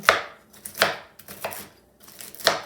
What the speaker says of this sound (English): I'll just do a rough chop